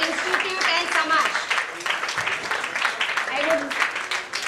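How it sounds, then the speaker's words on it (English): A round of applause at a community career seminar, dense clapping that rises and falls across the room while a few voices talk faintly underneath. "Giving them the big round of applause."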